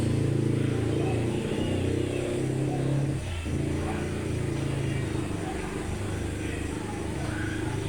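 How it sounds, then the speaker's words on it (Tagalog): Motorcycles and tricycles run steadily on a road just beside a house, a continuous loud engine drone with no clear pauses between vehicles. "Maingay po ang motor dito sa amin."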